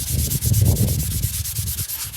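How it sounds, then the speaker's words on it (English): Scotch-Brite 3M pad lightly scuffing a seized 1968 Ford F250 FE 360 V8 engine, a close, loud, rhythmic back-and-forth rubbing with about a dozen quick even strokes, no voices. "Just gonna do a light scuff on it."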